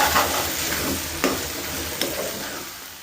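Tomato curry sizzling and frying in a pan on a gas stove, a steady close crackle with a couple of sharp clinks of a spoon stirring, no voices.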